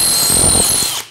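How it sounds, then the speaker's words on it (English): A power drill with a 6.5 mm ground bit bores into a workpiece for a custom bass guitar build, a loud, close, steady whine that cuts off abruptly after about a second, with no voices. "These drill bits are wandering quite a lot."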